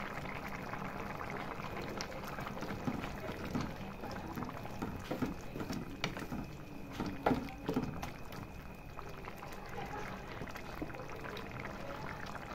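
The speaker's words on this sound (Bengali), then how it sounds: "এই সব কিছু এবার আমি সেদ্ধ হতে দেব ভালোভাবে।" Ghugni of potatoes and peas bubbles in a pot, a soft continuous simmer with faint pops and gurgles, heard close but quiet, with a few brief clinks and stirring noises in the middle.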